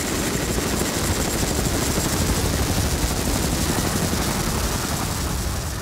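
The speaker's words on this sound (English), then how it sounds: "The first helicopter comes in at 5 o'clock." Military helicopter arriving before dawn for a commando operation in Afghanistan, a loud, close, continuous rotor chop and engine roar that stays steady throughout.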